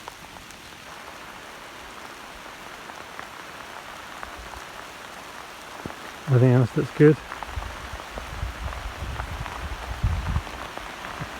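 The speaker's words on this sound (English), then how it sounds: "Just popped outside while it's raining." Steady light rain falls outdoors on flowering potato plants in a vegetable garden, a soft, even patter throughout, with a few brief louder knocks near the middle and a person speaking briefly.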